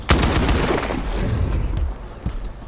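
Shotgun blasts in S.T.A.L.K.E.R. 2, a loud sharp report at the start followed by booming echoes and further softer shots near the end, with no talking.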